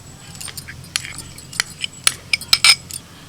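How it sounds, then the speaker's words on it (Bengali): White mustard and poppy seed paste being added to a pot, a series of light metal spoon taps and scrapes against the pot, close and quiet. "এবার সাদা সর্ষে আর পোস্ত বাটাটা দিয়ে দিচ্ছি এর মধ্যে।"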